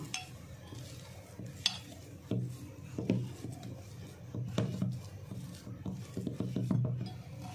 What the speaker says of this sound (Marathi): आता हे सगळं हातानेच मिक्स करून घ्यायचं